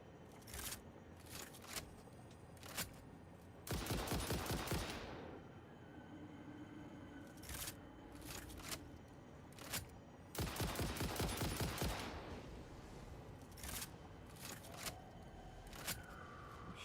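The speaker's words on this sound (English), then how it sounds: "Shooting at me from somewhere." Enemy gunfire in the video game Satisfactory comes as several loud bursts of rapid automatic fire, separated by quieter stretches with scattered single shots and clicks.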